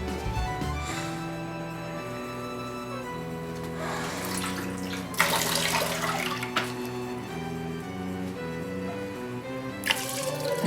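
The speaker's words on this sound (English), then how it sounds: "we're going to put in the peaches." Peaches and juice pour into wine must in a fermenting bucket, a wet splashing and glugging that surges in a few bursts, with a steady musical tone underneath throughout.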